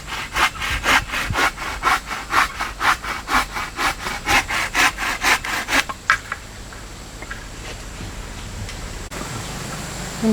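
Hand saw cutting through wood for a door, a steady series of about fifteen rhythmic back-and-forth strokes, close and loud, stopping abruptly and leaving a quiet room tone.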